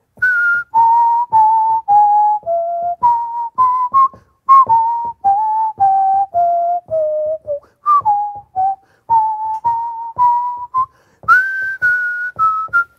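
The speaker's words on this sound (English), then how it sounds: "my whistle is very much in the treble register, but you can still hear the bass line" A single person whistles a jazz bass line in short, separated melodic phrases in the treble register, clear and close, with no talking.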